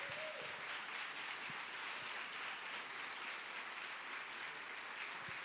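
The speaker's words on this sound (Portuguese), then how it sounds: "é uma salva de palmas para Jesus" Steady applause fills a church, a soft even wash of many hands clapping at a distance, faint and continuous throughout.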